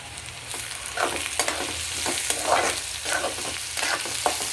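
Green chili and curry leaves fry with softened onion in hot oil for a Kokani-style sukat, a steady close sizzle broken by repeated scraping stir strokes about every half second.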